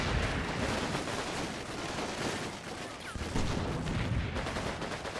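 In the Normandy-set war game Combat Mission Battle for Normandy, a dense, continuous barrage of gunfire and booming explosions rolls on loudly, like a sustained fusillade with heavy artillery hits.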